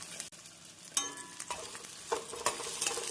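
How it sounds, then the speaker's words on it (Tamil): Onions with curry leaves sautéing in a pan for a turkey berry curry, with quiet sizzling under intermittent scraping stir strokes, a sharp tap early on and more frequent stirring toward the end. "வெங்காயம் நன்றாக வதங்கவும் நாம் ஊற வைத்த சுண்டைக்காயை சேர்த்து விடலாம்."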